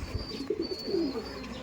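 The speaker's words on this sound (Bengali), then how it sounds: "এই দেখুন প্রচুর অ্যাগ্রেসিভ পায়রা" Aggressive pigeons coo in short low bursts at close range while being handled in a Kaldom Laldom loft, with soft wing rustles and brief chirps mixed in.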